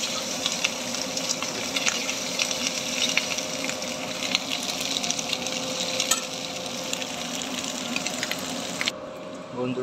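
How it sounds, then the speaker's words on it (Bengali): An egg frying in a pan until browned, a steady crackling sizzle with scattered pops running throughout, close and moderately loud, with a voice talking over it at times. "ডিমটাকে লাল লাল করে ভেজে নিই"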